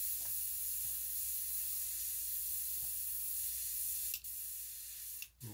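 Paint spray gun hissing steadily as it coats a shad-pattern crankbait lure, one continuous close spray of about five seconds with two brief sharp bursts near the end.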